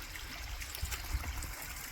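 Myers Beck, a cold mountain stream on the fells near Helvellyn, runs with a soft, steady trickle and babble, continuous and fairly faint, with no voices.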